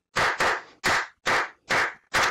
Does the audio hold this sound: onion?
no